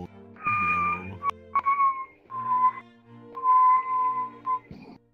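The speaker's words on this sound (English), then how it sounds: "I wonder what happens if I whistle with my voice changer on." Whistling run through a voice changer in VRChat, heard as several warbling, pitch-shifted whistled phrases with a synthetic electronic tone, fairly close and with no talking over it.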